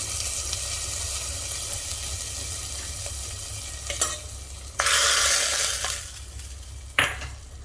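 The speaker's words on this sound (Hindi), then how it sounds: "तो ये तड़का डाल रही हूँ मैं पालक में।" Hot garlic tempering poured into spinach hits the greens with a sudden loud sizzle that fades, followed by another brief burst of frying crackle against a steady background hum.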